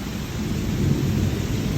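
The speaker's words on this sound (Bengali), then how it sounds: "এই যে এখন কিন্তু বৃষ্টি জোরে নেমে গেল" Heavy rain pours down during a thunderstorm, a loud, dense, steady roar of rainfall with low rumbling beneath it and no talk.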